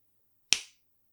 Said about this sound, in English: That it was it was just one single clap.